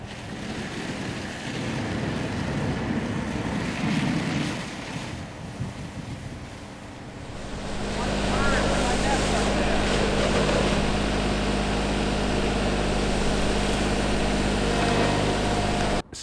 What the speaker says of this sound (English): So there's an impressive amount of water that comes out of this.